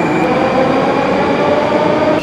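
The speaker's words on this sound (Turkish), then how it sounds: "Şimdi hazır metro durmuşken" A Moscow metro train sits in an underground station, giving a loud, steady mechanical hum and whine that fills the space continuously and close by, with no talking.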